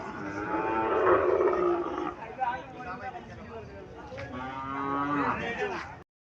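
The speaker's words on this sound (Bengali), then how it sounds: "এখানে একটা সার বাছুর দেখা যাচ্ছে" Bull calves and cattle low loudly and repeatedly at a busy Bangladeshi livestock market, the calls rising and falling in long drawn-out moos close by, with no speech.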